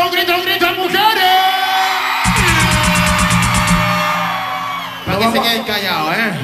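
A large crowd of women at a 2008 concert lets out a loud, sustained high-pitched scream and cheer, swelling for a few seconds before fading back into noisy hubbub.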